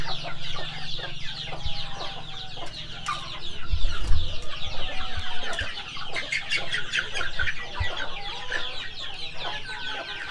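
Native chickens cluck in a rural yard, a busy overlapping mix of soft clucks and sharper calls from several birds, near and moderately loud, continuing throughout with small scuffling noises.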